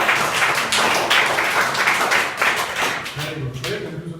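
Schoolchildren clap their hands together at a public school in Azamgarh, Uttar Pradesh, a dense, steady patter of many claps with voices talking over it throughout.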